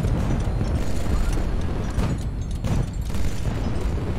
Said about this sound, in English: we are legit being pounded by 180mm gunfire from this Varyag